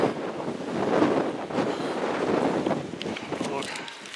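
Strong wind gusts buffet the microphone on an exposed mountaintop, a rough, fluctuating rush that swells and eases without a break, with no clear talking over it.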